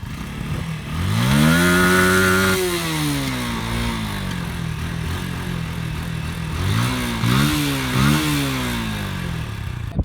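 An RKS RN180 motorcycle engine revs up and shifts repeatedly, rising and falling in pitch, loud and close; distinct exhaust pops are not clearly separable.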